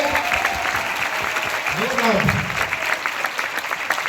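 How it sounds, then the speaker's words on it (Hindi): Audience at a business event applauding steadily for several seconds, a dense wash of clapping with a voice talking over it partway through. "मैं चाहूंगा एक बार जोरदार तालियां उनके लिए।"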